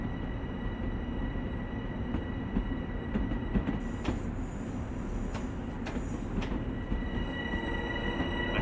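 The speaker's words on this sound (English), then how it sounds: "Love all the clacking noises." An M7 Long Island Rail Road train in the Train Sim World 2020 game rolls steadily along the rails, a constant rumbling drone with light clacking and faint wheel squeal, heard near and without speech.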